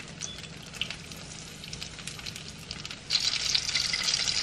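Korean cheese corn dogs frying in hot oil at home, a crackling sizzle that runs throughout and swells louder and denser in the second half, close up with no talk.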